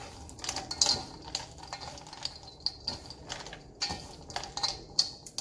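Namkao ingredients being mixed with a whole lime in a bowl, giving a steady run of clinks, scrapes and light clatter from a utensil against the dish, close by and without talk.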